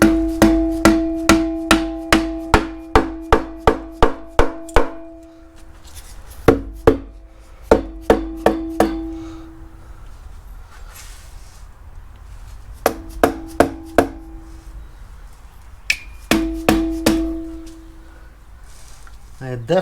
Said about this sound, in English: Let's give it a couple taps with the hammer.